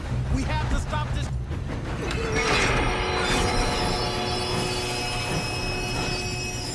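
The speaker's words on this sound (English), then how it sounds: "We have to stop this train." Train rumbling along the tracks in Red Dead Redemption 2, a loud steady mechanical roar with metallic wheel squeal and high ringing tones throughout.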